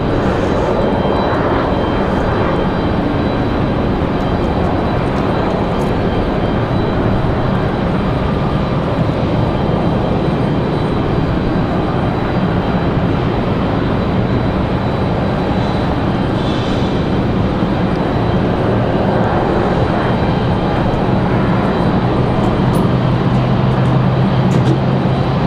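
Airbus A320 airliner arriving at Raleigh-Durham International Airport, a loud continuous broadband engine roar that holds steady throughout, heard alone with no talking.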